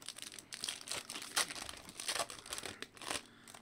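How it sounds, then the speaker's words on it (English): Foil packs of 2014 Topps Fire football cards are torn open close up, with continuous crinkling and crackling wrapper noise and a few sharper rips. "So here, we'll just rip them open."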